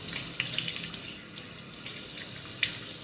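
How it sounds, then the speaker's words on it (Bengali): Tap water running and splashing faintly into a sink as a face is rinsed after face wash, with soft drips and splashes over a steady trickle. "এবার জল দিয়ে ধুয়ে নেবো।"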